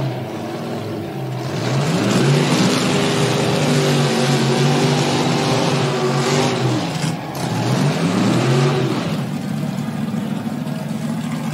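A burnout car at Burnout Rivals Indy revs hard and steadily with the tires spinning, a loud sustained roar that climbs in pitch as it goes up a gear, dips briefly around the middle and then rises again.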